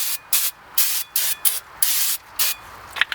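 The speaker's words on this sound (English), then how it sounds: "Spray them down with some brake cleaner." Several short bursts of brake cleaner aerosol spray hiss in an uneven rhythm onto a brake rotor, close and fairly loud, with brief pauses between each squirt.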